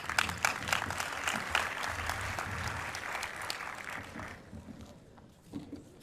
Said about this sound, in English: If you guys could give him a round of applause, please.